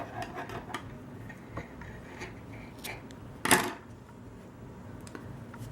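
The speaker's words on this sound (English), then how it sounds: "I'm going to cut my yarn" Scissors snip through crochet yarn in a single sharp, close cut that stands out from a quiet background of faint handling ticks and rustles, with no speech.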